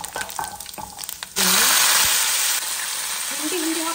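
Mustard seeds and dry red chillies hit hot coconut oil in a pan, setting off a sudden loud broadband sizzle that holds steady after a few clinks and soft handling noises, with a faint tonal squeak near the end.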